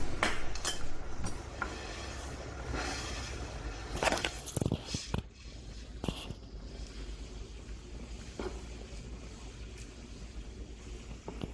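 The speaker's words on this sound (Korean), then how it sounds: "끓는 물에 넣고 면이 엉키지 않도록 젓가락으로 잘 저어주시면 되겠죠." Chopsticks stir noodles in a pot of boiling water so they don't tangle, with a constant bubbling hiss and a few sharp clinks against the pot, heard close and alone.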